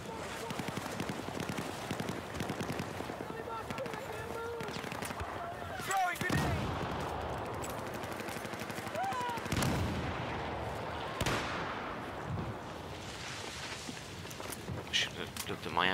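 Gunfire and explosions from the video game Battlefield 4, a dense mix of shots and booms running throughout at moderate loudness, with a player talking over parts of it.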